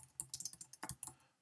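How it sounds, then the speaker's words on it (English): Quick, light keystrokes tapped on a computer keyboard, about a dozen close clicks in a brisk uneven rhythm, heard near and alone. "Now if I go in here and I start typing tutorials"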